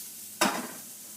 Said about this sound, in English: ooh, you heard that sizzle? That was a good sizzle.